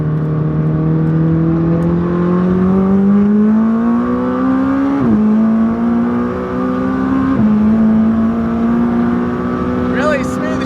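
McLaren 600LT engine pulling hard under acceleration, its loud rising drone broken by two quick gear shifts, heard close from inside the cabin with no voices.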